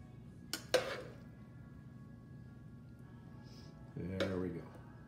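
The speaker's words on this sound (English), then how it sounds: "So at this point, we plate it." Dishes and utensils clink and clatter in short bursts while rigatoni alla primavera is plated in a kitchen, with quiet gaps between the knocks.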